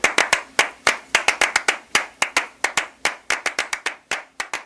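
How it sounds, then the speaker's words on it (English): Layered hand clapping played as several interlocking rhythms stacked on top of each other, sharp close claps in a quick uneven pattern with no voices. "just layering claps over one over another"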